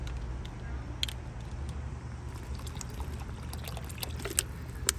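Half a cup of water poured into a camp oven pot while making chili mac, a soft steady trickle over a low outdoor rumble with a few small clinks, close and quiet.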